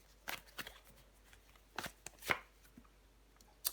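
A tarot card laid down over the jack of cups, making a few faint, scattered papery taps and slides with quiet pauses between them and a sharper flick near the end.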